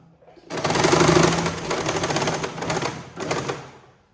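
A sewing machine stitches a square-cut neckline on fabric. It runs with a fast, even mechanical chatter that lasts a few seconds, then slows and stops with a final short burst. It is close and fairly loud, and no one talks.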